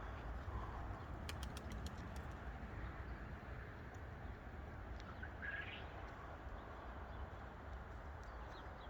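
Pigeons in a loft with blue-crested birds: soft cooing and a few chirps over a constant low rumble of background noise, the birds faint and intermittent.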